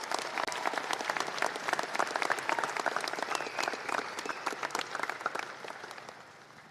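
An audience applauds midshipmen graduates at a naval academy prizes and awards ceremony, with dense, steady clapping from a large crowd that holds for several seconds and then fades.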